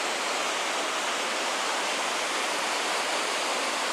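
River rushing through Johnston Canyon in Banff National Park, a loud, steady broadband roar of turbulent water that carries on unbroken with no voices over it.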